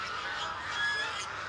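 A flock of geese raised in a pomelo orchard honks in a continuous blended chorus, moderately near and fairly soft, with no clear speech over it.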